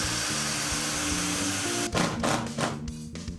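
A power drill with a glass drill bit bores into hard porcelain tile, a steady high whine with a pitched motor hum that shifts into rougher, stuttering grinding bursts near the end.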